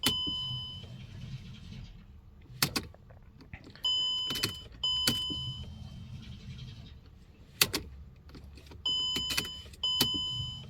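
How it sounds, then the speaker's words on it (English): A Mercedes fuel pump primes as the ignition is cycled during a DIY fuel pump repair, giving several repeated bursts of soft whirring, each set off by sharp clicks and bright electronic chime tones. "So pretty much just do this for a couple of times, I think, to prime the fuel pump and then pressurize the lines."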